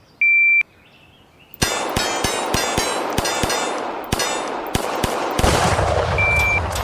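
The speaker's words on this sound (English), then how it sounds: "if I shoot the tannerite object first and then the targets fall" Rapid gunshots ring off steel targets during a timed shooting drill, a quick series of sharp cracks with metallic clangs, followed by a heavier boom and lingering rumble, preceded by a start beep.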